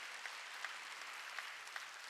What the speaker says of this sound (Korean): 깨달은 사람은 박수.